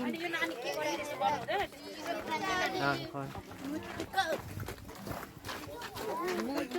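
Cattle low in a few drawn-out moos, partly buried under people chatting nearby outdoors.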